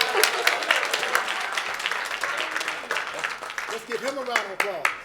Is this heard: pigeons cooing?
no